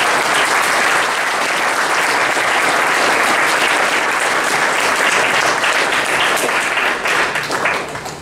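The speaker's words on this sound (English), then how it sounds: "So again, round of applause to Chris." Loud, dense applause and clapping from a crowd at a team presentation during a 15th birthday celebration, sustained evenly and thinning slightly at the very end.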